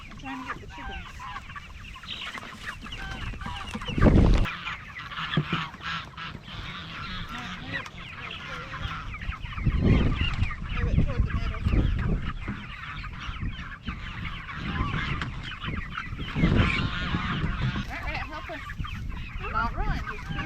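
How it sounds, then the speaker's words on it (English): Chickens cluck and squawk out on a farm pasture, a busy scattered chorus of calls at moderate distance with occasional louder outbursts and faint human voices underneath. "I'm trying to get the chickens."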